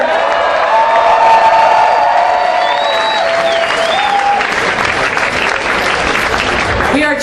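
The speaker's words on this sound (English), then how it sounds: "make some more noise for these contestants right here" Audience at the American Beatbox Championships 2011 applauding and cheering for the contestants, a loud, sustained wall of clapping with whoops and shouts, with a voice speaking over it.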